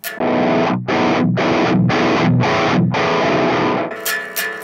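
Chords ring through a Marshall Plexi-style guitar amp with the treble knob turned up, giving a heavily distorted, bright sound. About five sustained chunks are broken by short gaps and are followed by a fizzy, rattling tail.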